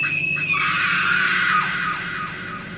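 A horror-story scream, shrill and sustained, rings through a mansion's walls and then fades into a long echoing tail, loud and alone.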